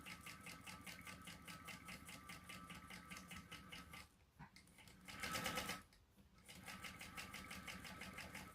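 A sewing machine bastes fabric along a quarter-inch seam, its needle hammering in a fast steady rhythm close by, pausing briefly and surging faster for a moment before resuming its even stitching.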